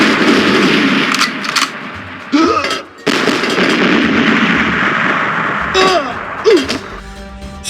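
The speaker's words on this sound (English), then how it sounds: "I think that's quite fair for the grenade. The grenade launcher." Grenade launcher in the N64 game GoldenEye 007 fires repeatedly, with loud booming explosions and harsh bursts of gunfire in a dense, continuous game soundtrack, a few brief ringing tones in between.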